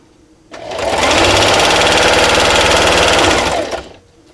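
A sewing machine stitches a T-shirt quilt in one steady run of just over three seconds, its fast mechanical hum starting and stopping cleanly and sounding close and loud.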